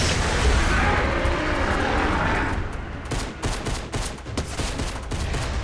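Fortnite gameplay gunfire: a dense, loud burst of rapid automatic shots over a roaring engine-like drone, with the shooting growing sharper and more distinct in the second half.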